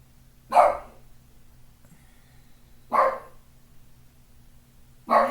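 A dog barks outside an open window, three single barks spaced a couple of seconds apart, moderately loud over a quiet room hum.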